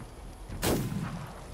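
A single flintlock gunshot in a video game, a sharp close blast that fades into a short rumbling tail.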